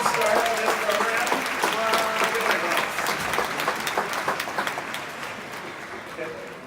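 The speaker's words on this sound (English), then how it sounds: "can we give that last act one more round of applause?" Enthusiastic audience applause at TEDxUCLA in Royce Hall, a dense sustained burst of clapping with some cheering that gradually fades, while voices talk over it.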